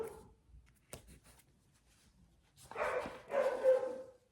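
A dog barks in a home, one sharp bark followed by a run of several louder, closer barks near the end.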